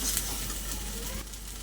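Pointed gourd bharta with prawns hisses and sizzles as it is stirred in hot mustard oil, a brief, close, continuous frying sound with a slight scrape.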